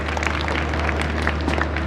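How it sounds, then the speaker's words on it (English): An audience at a children's wellness campaign event gives a round of applause, a loud, dense patter of clapping hands over a steady low hum. "Another round of applause to Vuyo, ladies and gentlemen"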